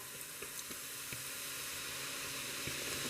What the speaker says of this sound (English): allow this to deglaze for a minute